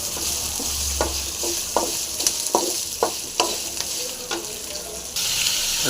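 Spices, kasuri methi and tomato fry in a pan for an egg masala curry, a loud, constant sizzle punctuated by a string of irregular scraping stirs close up, with no talk.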